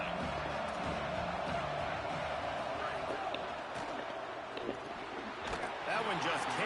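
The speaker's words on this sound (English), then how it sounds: "how nice is it to have the home crowd going absolutely bananas?" Home crowd roars loudly in the stadium at an LSU versus Cal college football game, a steady wall of cheering and whooping that stays sustained throughout, with no clear speech.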